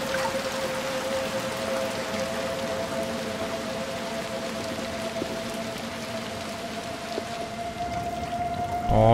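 Steady rainfall hisses across a dark scene in Little Nightmares 2, a broad even wash of drops with faint tonal drones humming underneath, no one speaking.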